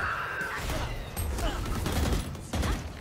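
A faint volley of gunshots in a Valorant match, with muffled, overlapping pops and clatter under a busy game soundscape.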